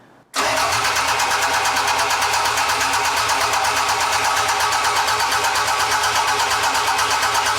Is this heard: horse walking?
no